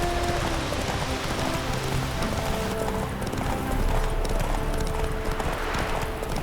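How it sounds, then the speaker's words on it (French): Horse hooves clip-clop steadily in The Witcher 3 video game, a quick even trot close by over soft ambient noise, with no one speaking. "Et c'est quoi ce cheval là qui est autogéré là?"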